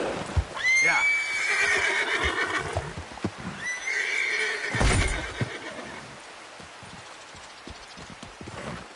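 A horse in Red Dead Redemption 2 whinnies loudly and shrilly twice, with hoofbeats clopping under and between the calls before the sound settles into quieter movement.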